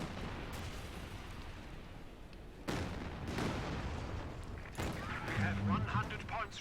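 Long-range artillery barrage with wide scatter in the video game Company of Heroes 2, landing as a few heavy booming impacts over a constant battle din while a commentator talks throughout.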